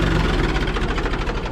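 A tractor engine runs at close range on a roadside, a loud, steady low rumble with a rapid knocking pulse and no voices.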